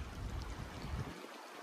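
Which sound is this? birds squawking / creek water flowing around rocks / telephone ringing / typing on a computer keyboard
creek water flowing around rocks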